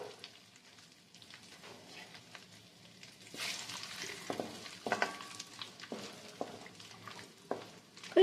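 Bay leaves and garam masala fry in reused oil for a murgh musallam, crackling and spitting in irregular bursts over a low sizzle that grows busier toward the end.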